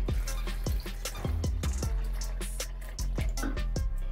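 Water being poured into a jug of frozen falsa berries, a close splashing and dripping trickle with irregular plinks and gurgles throughout.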